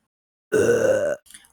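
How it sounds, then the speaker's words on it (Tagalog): A single loud, close burp after a big breakfast, lasting under a second, followed by a faint short trailing sound. "Ang malakas niyang dighay, tanda na busog na busog na dahil sa masarap na almusal niya."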